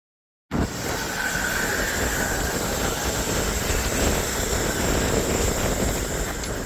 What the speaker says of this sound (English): So that was the train we were trying to catch.